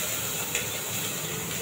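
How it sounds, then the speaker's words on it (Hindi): Cumin, asafoetida and ginger-chili paste sizzling in hot oil while tempering a vegetable curry, a steady, dense, close hiss that runs evenly throughout with a faint tick or two. "तो चलिए सब्जी छौंक देते हैं। जीरा डाल देंगे, हींग डाल देंगे, और डाल देंगे ये हम अदरक और मिर्ची का थोड़ा सा"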